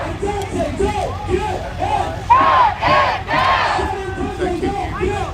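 A large crowd of marchers shouting and chanting outdoors at a street protest march, loud and close, with overlapping voices, a few sharp raised yells, and a steady murmur of babble underneath.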